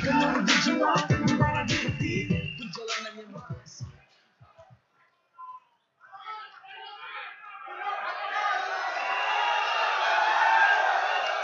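A rally crowd at a political campaign event cheers and whoops, swelling into a sustained roar after an amplified voice speaks and a brief lull.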